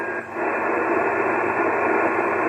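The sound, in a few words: radio receiver noise after the signal drops out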